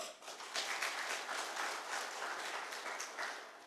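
Democratic Party central committee delegates at a party leadership preliminary election applaud together, a full, rolling wash of clapping that swells briefly after a soft start and stays strong throughout.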